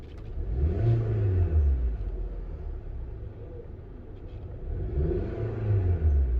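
A car engine revs as the accelerator pedal is pressed, rising and falling in two swells with a steady rumble between them. It is heard close and alone, with no talking.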